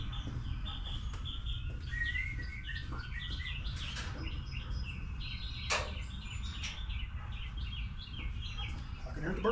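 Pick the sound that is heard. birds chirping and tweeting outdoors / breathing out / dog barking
birds chirping and tweeting outdoors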